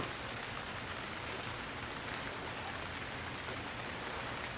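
Steady, soft rain falls in an even hiss with no other sounds over it, in the video game Stranded Deep.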